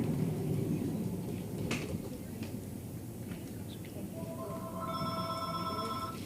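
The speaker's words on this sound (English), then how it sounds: "I think it's the phone." A telephone rings in a domestic room, its steady electronic tones entering near the end over a constant background hum, with no talk.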